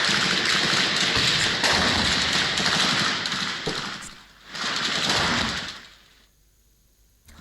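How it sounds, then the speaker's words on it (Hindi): Rapid gunfire rattle from fighting in the Russia-Ukraine war, a dense, loud crackle of bursts running for several seconds, dipping briefly, then resuming before fading to near silence at the end. "तो गोलियों की तड़तड़ाहट आपने सुनी"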